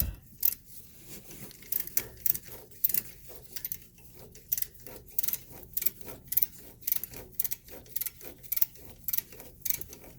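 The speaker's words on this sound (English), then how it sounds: "we're gonna tap this hole" Steel tap threading a hole in a 2002 Honda CR-V front strut shock mount, a steady series of small metallic clicks and ratchety ticks repeating in an uneven rhythm, close and moderately quiet, with no talking.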